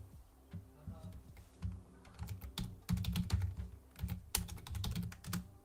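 Someone types an answer on a computer keyboard during a live show, a close, busy run of rapid key clicks with brief pauses, with faint low sound underneath.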